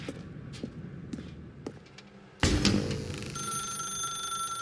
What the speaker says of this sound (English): Now pick up the phone.